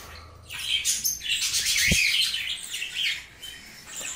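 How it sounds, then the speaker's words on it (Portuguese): A mauve rosy-faced lovebird gives a quick series of bright, shrill chirps and tweets, close and fairly loud, with no voices. "O agaporne, essa criancinha aqui, ó."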